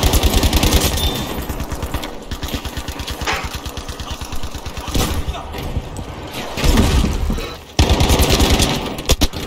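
Rapid automatic gunfire from the video game Battlefield V comes in loud, dense bursts with brief pauses and thuds between them, while a player's voice is faintly present.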